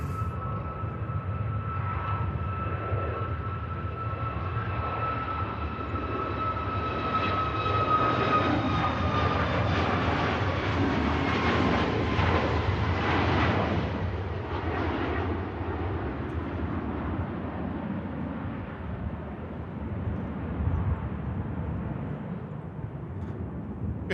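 A TUI passenger jet climbs out after takeoff at Manchester Airport, its engine roar swelling to a broad peak mid-clip then slowly fading into a distant rumble, heard alone with no talk.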